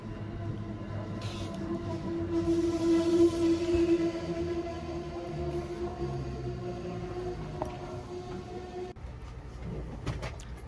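A steady rumble of a train rolling along its rails, with a constant low drone and humming tones, continuous and fairly loud throughout.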